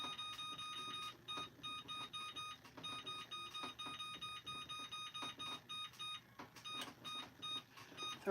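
A kitchen timer beeps in repeated short bursts of high electronic tones, fairly faint and regular, while two alarms are set during cake baking.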